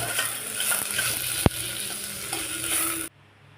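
Onions and chopped tomatoes frying in a pan, a steady close hiss of sizzling oil with light stirring scrapes and one sharp knock of the spoon, ending abruptly.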